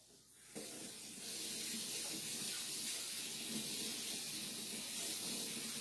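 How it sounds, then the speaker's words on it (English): Kitchen tap water runs steadily over a maple syrup bottle, a continuous close hiss and splash that starts abruptly and holds at an even level throughout, with no talking. "Oh, I got to run that under some water."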